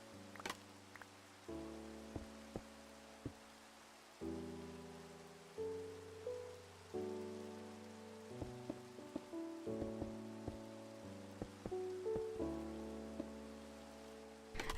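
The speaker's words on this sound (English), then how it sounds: "I can't believe it started raining as soon as I started this stream." Rain falling in Minecraft, a soft steady patter lying beneath a slow background melody of sustained notes, with occasional clicks and no voices.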